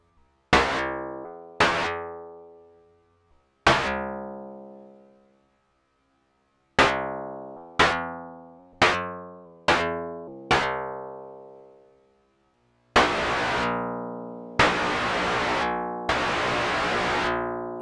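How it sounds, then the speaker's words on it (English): Analog Karplus-Strong synth module producing plucked, twangy tones with fast-decaying notes in an uneven sequence, then three longer sustained noisy tones with a buzzy, unstring-like quality. "we can just sustain the noise for a very unstring-like sound"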